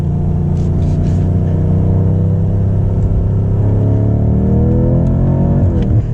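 A BMW M5 engine pulls hard and loud, its pitch climbing steadily as it accelerates, with a brief gear change near the end.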